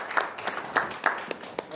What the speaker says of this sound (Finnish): Aplodit kaikille ja kiitos tästä päästä